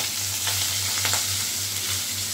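Fish heads fry steadily in a pan of hot oil for a Bengali muri ghonto, giving a dense, continuous sizzle with a few brief spatters, close and fairly loud, with no voices.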